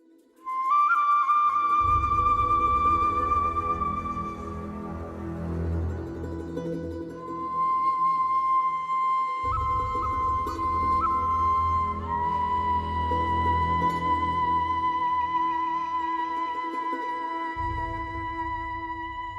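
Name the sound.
dark ominous video game music track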